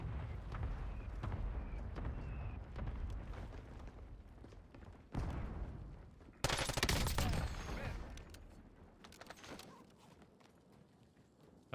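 Mortar strikes landing in the Warzone battle royale video game, heavy booming impacts and a sharp loud blast midway, amid dense gunfire and game noise, with a player talking over it.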